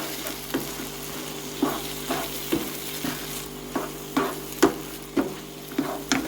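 A spoon stirs beef stroganoff with mushrooms in a pan, scraping in a steady rhythm of about ten strokes over a soft background sizzle.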